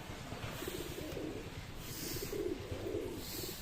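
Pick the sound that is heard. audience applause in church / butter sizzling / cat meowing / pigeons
pigeons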